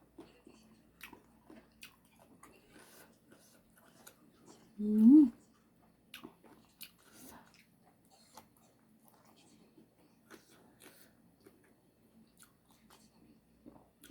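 Someone eating som tam with noodles, with soft close-up chewing and biting sounds and one louder slurp-like burst near the middle, along with faint whispery talk.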